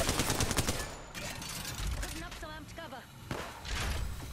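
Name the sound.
gunfire from other players shooting in a video game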